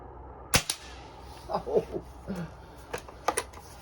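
Diana Mod. 54 Air King air rifle firing outdoors in cold weather: one sharp, loud crack followed by a quick secondary snap, then scattered mechanical clicks and handling noises.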